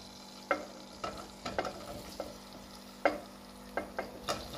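Grated carrots with cardamom stirred in a pan for gajar halwa: a faint, steady sizzle broken by about a dozen irregular scraping strokes of a spoon against the pan, close and quiet.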